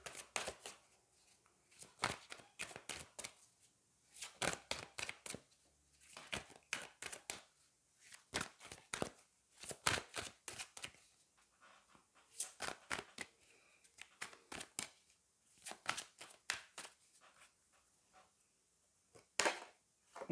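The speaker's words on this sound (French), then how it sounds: "on va prendre une carte des anges" Angel oracle cards being shuffled by hand in repeated bursts of crisp riffling and slapping, close and fairly loud, separated by short pauses.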